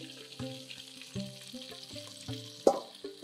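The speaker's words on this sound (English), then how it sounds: "I've got the oil real nice and warm, and I'm gonna add the spinach." Spinach frying in warm oil gives a close, crackling sizzle with bursts of popping and stirring clatter, plus one sharp louder crack near the end, and no voices.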